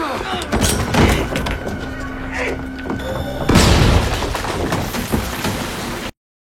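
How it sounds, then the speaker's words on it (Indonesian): A heavy grenade explosion booms out midway through, loud and close, followed by rumbling debris and crashing noise as an entryway collapses, amid a busy, chaotic soundscape. "Mereka memang berhasil selamat, tapi ledakan yang terjadi meruntuhkan jalur masuk."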